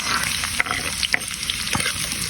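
Garlic and onion sauté in a pan for a Filipino bagoong dish, a dense close sizzle with several quick spatula scrapes and clicks, and no voices.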